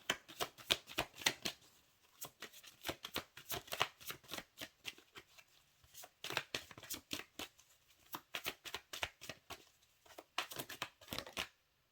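A tarot deck being shuffled by hand, with quick bursts of riffling and card flutter in uneven clusters and brief pauses, close and fairly quiet.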